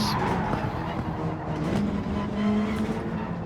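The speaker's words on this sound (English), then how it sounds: "a next-generation biodiesel-powered race car. This Mazda3 Gr.4 is a Gran Turismo original model" A Mazda3 Gr.4 biodiesel-powered race car in the Gran Turismo video game, its engine holding a steady loud drone with a rising tonal whine and a brief tire-squeal edge throughout.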